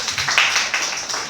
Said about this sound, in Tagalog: Salamat sa mga pumalakpak.